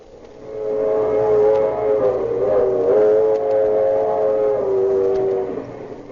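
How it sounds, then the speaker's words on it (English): A hospital train running: a loud, steady wailing whistle holds for several seconds with a slight waver, over a low rumbling background, with no voices. "Yes, it's a special train, and it's crowded."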